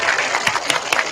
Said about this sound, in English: Can we have a really nice big round of applause for the newest member of the cast of Doctor's Hospital, Mrs. Jonathan Hart?